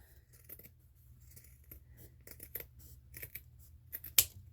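A scrubbing sponge is trimmed with scissors in a series of short, crisp snips, close and fairly quiet, ending with one sharper cut near the end.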